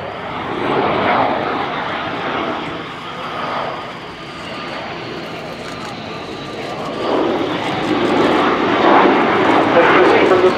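Polish Air Force MiG-29 jet making a slow-speed, high-angle attack pass at an air show, a broad, fairly distant engine roar that swells and fades and grows louder toward the end, with a commentator talking over it.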